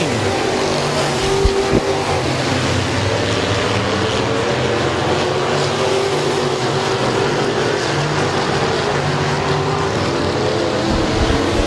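Race cars at Midvale Speedway roar around the track as they battle for position on lap 16. A loud, continuous, layered engine drone with shifting pitch fills the whole stretch, with no voices.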